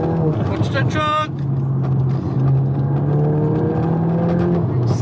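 A Volkswagen Golf GTI stage 2 with a non-resonated sport exhaust revs and accelerates loudly, its engine note rising in pitch, while people talk over it.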